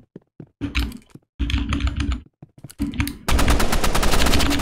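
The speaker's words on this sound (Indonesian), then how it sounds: "Aduh, kita kena tembak duluan lagi." Bursts of automatic gunfire in a Roblox first-person shooter, rapid rattling volleys broken by short gaps and keyboard-like clicks, ending in a sustained loud burst. No one speaks.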